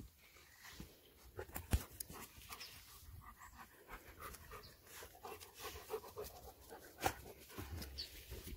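A dog pants steadily and close by, rapid rhythmic breaths running throughout with a few sharper huffs, in a quiet rural home setting at a forest homestead.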